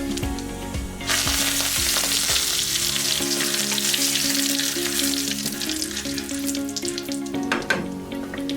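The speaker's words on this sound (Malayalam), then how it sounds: "1 ടീസ്പൂൺ കടുക് ഇട്ട് കൊടുക്കുക. കടുക് പൊട്ടിയതിനു ശേഷം ഇതിലേക്കായി ഒരു പിഞ്ച് കറിവേപ്പില ചേർക്കുക." Mustard seeds and curry leaves crackle in hot oil for a squid roast and tapioca mash: a loud, dense, steady sizzle that bursts in after a second and carries on with scattered pops and no speech.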